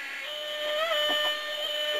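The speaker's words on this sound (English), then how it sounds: "Well, there's the noisemaker going here." A homemade electronic noisemaker circuit built around a transformer gives off a steady, shrill, buzzing tone with a slight pitch wobble partway through, close and continuous, with no talking.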